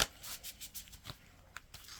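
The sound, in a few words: shuffling tarot cards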